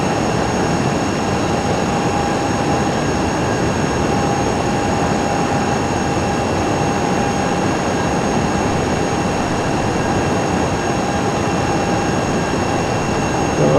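Steady aircraft engines drone continuously inside the cabin during flight above Highway 80, a loud broadband roar with a faint steady tone, no talking.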